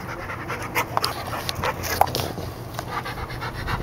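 A dog pants steadily and close by, quick rhythmic breaths with a few small whimpers mixed in, with no one talking over it.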